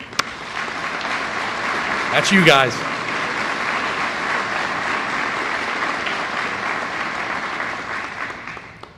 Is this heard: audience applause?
yes